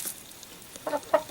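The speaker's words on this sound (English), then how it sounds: "you're a friendly chicken, aren't you?" Inside a chicken coop, a friendly hen gives two short, close clucks near the end, with quiet background before them.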